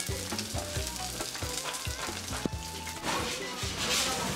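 Korean green onion pancake (pajeon) frying on a hot griddle, giving a steady close sizzle with repeated light clicks and scrapes of a utensil and a brief sharp tap partway through.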